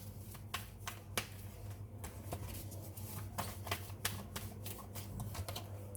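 Tarot cards being shuffled and drawn, a run of quick, crisp flicks and riffles close by, fairly quiet and steady in rhythm, with no talk over them.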